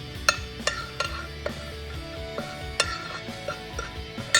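Tomatoes being tossed with chopped basil and olive oil in a bowl, with a spoon clinking and tapping against the dish in irregular bursts over soft wet stirring, close and moderately loud, no talking.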